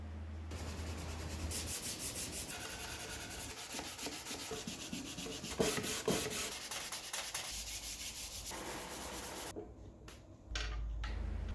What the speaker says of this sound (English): After sanding the interior through to 220 grit